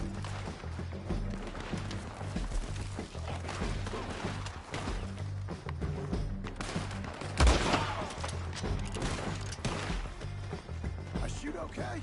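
Repeated gunshots and bursts of fire from a video game roleplay crackle through the mix, loudest around the middle, over a steady game backdrop with people talking throughout.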